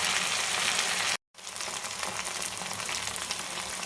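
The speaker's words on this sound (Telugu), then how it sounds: "దీన్ని వేడివేడి నూనెలో వేసుకుందాం." Punugulu fritters made from idli batter fry in hot oil, a steady dense sizzle that fills the whole clip and breaks off only for a brief silent cut.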